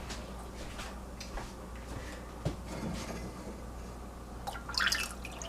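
Cold water is poured into a pot to cool milk for homemade yogurt. Faint drips and small splashes patter irregularly, with a louder burst of trickling near the end.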